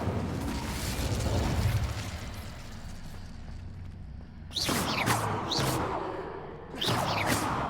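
A fire spell erupts in Hogwarts Legacy with loud whooshing bursts, heavy low rumble under a steady game ambience, then two sharp flaring blasts near the end.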